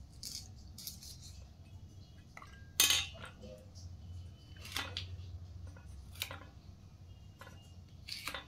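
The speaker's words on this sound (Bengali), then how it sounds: "আজকে ইচ্ছে হলে একটু বটিতে কাটি।" Okra being sliced on a boti blade makes light scattered clicks and taps against metal, with one sharper scrape partway through, fairly quiet over a low kitchen hum.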